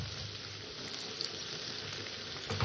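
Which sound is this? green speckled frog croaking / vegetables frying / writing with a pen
vegetables frying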